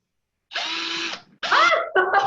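A power drill whirs in bursts while carving a pumpkin, with a steady run followed by shorter stop-start whines, loud and close.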